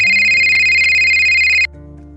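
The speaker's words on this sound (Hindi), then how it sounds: "फोन बजने लगा" A phone plays a loud electronic ringtone with a bright repeating tone that cuts off abruptly after about a second and a half, leaving a quiet background.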